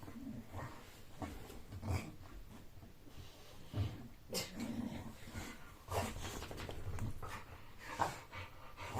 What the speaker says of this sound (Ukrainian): Щасливі песики.